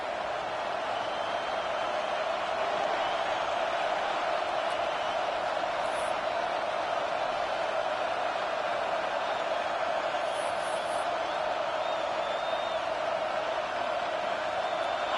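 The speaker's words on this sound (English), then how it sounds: "with this place rocking, the crowd forces a false start" A stadium crowd at a college football game between Arkansas and Auburn roars as a steady, distant wash of noise, a continuous, even din of massed voices with no single voice standing out.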